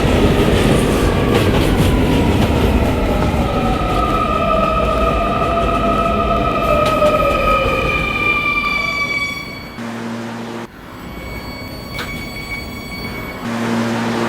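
An R220 subway train on the 11 local rolls along with steady loud rumble and rising wheel squeal, then slows and quiets, with tonal chimes near the end.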